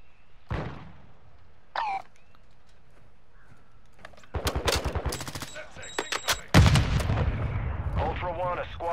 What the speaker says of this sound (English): That was a hard-hitting shotgun.